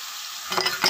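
Onion, green chili, tomato, ginger and garlic hit a hot pan and sizzle up suddenly after a quiet moment, with bright frying crackle and a stirring scrape, close and alone.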